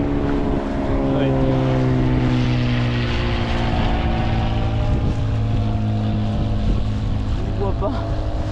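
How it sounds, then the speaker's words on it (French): A propeller airplane drones overhead while aboard a sailboat on a cruise near Rondinara, its steady harmonic hum sustained loudly over wind and water noise with people talking nearby. "C'est quoi ça? C'est un avion là?"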